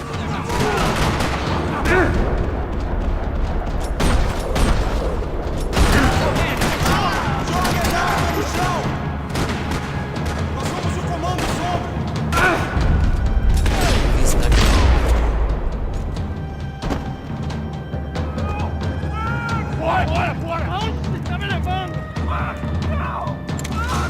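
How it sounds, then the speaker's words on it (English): Heavy gunfire rattles through a parking lot in the video game Max Payne 3. Rapid automatic bursts and single shots are mixed with crashes and impacts, and the barrage stays loud and continuous, easing slightly near the end. "Another parking lot rattling with gunfire."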